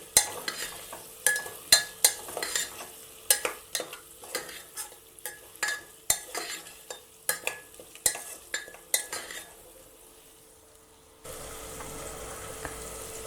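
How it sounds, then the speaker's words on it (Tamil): Raw mango pieces fry in oil for a mango biryani while a metal spatula stirs them, giving repeated sharp clanks and scrapes against the pan over a light sizzle. The clatter stops near the end, leaving a quieter background. "இந்த மாதிரி கட் பண்ணிவிட்டு இப்போ இதில் சேர்க்குறேன். மாங்காய் எண்ணெயிலே கொஞ்சம் வதங்கட்டும்."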